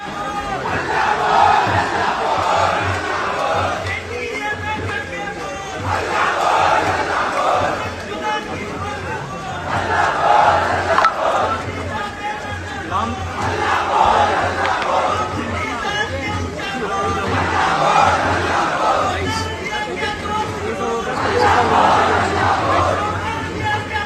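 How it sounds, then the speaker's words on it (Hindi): A large crowd chants slogans in loud, rhythmic bursts that repeat every few seconds, with shouting and chatter between the chants. "हल्ला बोल के नारे लगने लगते हैं"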